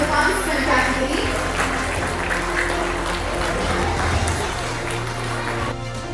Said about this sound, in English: Please give them a very big applause as they are from the participant category.